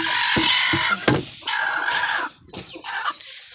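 Chickens cluck loudly and close by, with a rooster crowing among them in several separate bursts and short pauses between calls, and no one talking.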